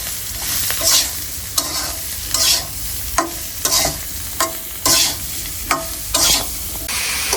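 Cauliflower frying with turmeric and salt while a spatula stirs it around the pan, rhythmic scraping strokes roughly once a second over a steady sizzle, close and loud with no voices.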